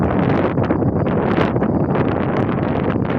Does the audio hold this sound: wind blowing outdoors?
yes